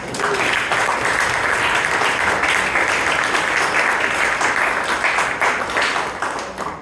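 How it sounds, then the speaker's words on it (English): A Toastmasters meeting audience in Bangalore gives a round of applause, a loud, dense, sustained patter of many hands that stays level before easing off at the end. "Please give her a big round of applause."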